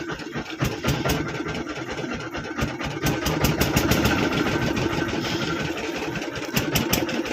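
A boat engine runs on a river in the Sundarbans, a steady close mechanical drone with rapid regular ticking pulses throughout, loud and continuous.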